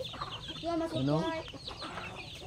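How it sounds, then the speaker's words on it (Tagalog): Chickens cluck nearby in a busy flock, with a short spoken word from a person amid the birds. "nagpapakain na naman sila ng manok. Kasama pati yung pato."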